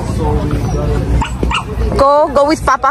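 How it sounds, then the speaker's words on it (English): A small puppy yaps and whimpers in short, high bursts close by, heard over steady outdoor chatter and a voice in Bourton-on-the-Water in the Cotswolds. "It's a baby dog."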